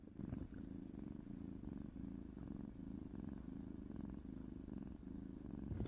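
A cat's soft, steady purr rumbles close up in a quiet room, its rhythmic pulses continuing evenly throughout.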